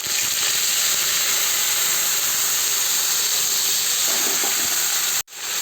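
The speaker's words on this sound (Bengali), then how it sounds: "এখন আমি এই জলে গুলে রাখা মশলাটা আমি এর মধ্যে দিয়ে দিচ্ছি" Water-mixed spice paste hits hot fried potatoes in a pan, giving a loud, steady, close-up hiss of sizzling oil that runs without a break and then cuts off abruptly near the end.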